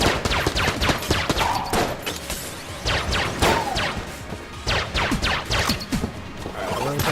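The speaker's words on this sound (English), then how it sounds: "These little mages, they shoot a bunch of stuff, random patterns too." Rapid bursts of video game gunfire from Enter the Gungeon, dense overlapping shots and impacts in steady volleys throughout, with no talking.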